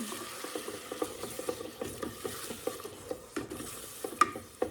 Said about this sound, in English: Now we're going to add the tomato sauce. Let this cook up.